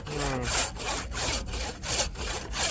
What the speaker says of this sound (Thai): เลื่อยใหม่ๆเลยครับตอนนี้